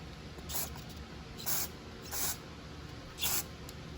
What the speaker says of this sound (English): you can also spray compressed air